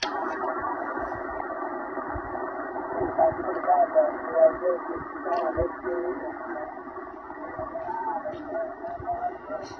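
Ham radio reception on a 40-meter band through a G5RV antenna with a Kenwood TS-590 transceiver: steady band noise and crackle, with a faint, distorted voice drifting through the static.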